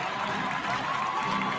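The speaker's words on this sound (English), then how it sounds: "Hearty cheer going up around here in Oakland for him." Stadium crowd cheering and applauding in Oakland during a baseball video game, a steady broad roar of noise held at an even level throughout.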